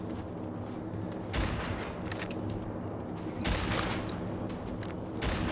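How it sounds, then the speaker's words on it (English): Gunfire in Generation Zero, heard as repeated loud broadband bursts spaced about every second or two over a steady rumbling background, with no speech. "Stop shooting."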